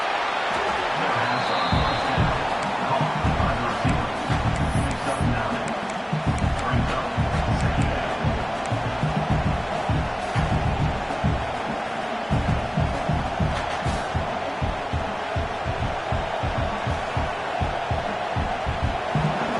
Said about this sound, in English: Here comes 2nd down, and this crowd is turning it up a notch.